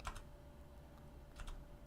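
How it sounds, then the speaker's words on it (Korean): Keys clatter on an EM7 custom 65% mechanical keyboard, a few quick clustered keystrokes at the start and again near the end, faint and close with quiet gaps between. "EM7이라고 하는 키보드인데요"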